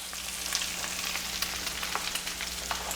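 Eggs fry in a pan with a steady close sizzle and crackle, spattered with small pops over a low background hum.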